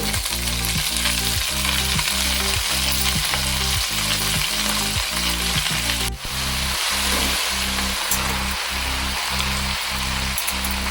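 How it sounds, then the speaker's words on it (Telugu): Freshly cut amaranth leaves drop into a hot pan with curry leaves, setting off a loud, continuous close-up sizzle and crackle, with rhythmic spatula strokes and one sharp burst of hissing partway through. "ఇప్పుడు మనము కట్ చేసుకున్న తోటకూర వేసుకోవాలి"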